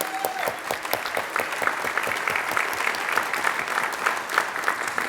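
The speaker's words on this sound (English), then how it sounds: "One more round of applause for both of our youth advisors." Lively round of audience applause at a community gathering honoring youth advisors, many hands clapping steadily and evenly throughout with no voices over it.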